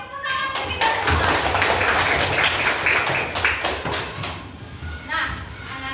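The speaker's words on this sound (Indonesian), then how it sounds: "tepuk tangan untuk kita semua" Schoolchildren in a fourth-grade classroom clapping together, a burst of scattered, bright applause up close mixed with voices, fading after a few seconds.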